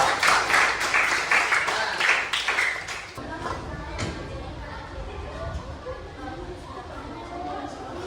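A class claps for a student group, a burst of dense applause that lasts about three seconds and then fades into murmuring chatter and quiet room noise.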